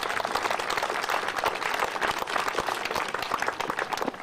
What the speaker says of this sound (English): So let's give the Manzanar Committee a big round of applause for pulling this all together.